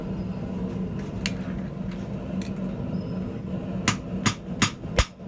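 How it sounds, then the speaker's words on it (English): Blacksmith's hammer striking metal while forging a trivet, a few faint early taps, then four loud, sharp ringing blows in quick succession near the end over low background rumble. "It does feel pretty odd using this hammer right now."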